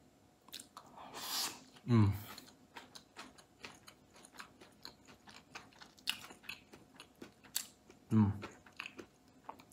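Someone chews a mouthful of homemade egg fried rice close to the microphone, soft crunching and smacking with two louder bursts, faint and intermittent in an otherwise quiet room.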